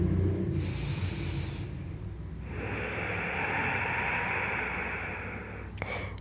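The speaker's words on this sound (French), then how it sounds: "Une dernière respiration." Slow yoga breathing during a vinyasa session: a long airy inhale, then a short pause, then a longer, stronger breath through the nose, close and steady, with a faint click near the end and no speech.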